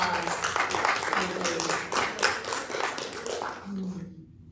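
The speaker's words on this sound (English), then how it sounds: "One more round of applause." Audience applause at a live spiritual service in a theater, a dense wash of clapping that carries on for about four seconds before cutting off, with voices mixed in underneath.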